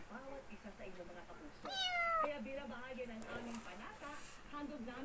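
Persian kittens meow in a cluster of thin, high cries, one clearer rising call standing out midway, heard close over steady background noise and a soft murmur of voices.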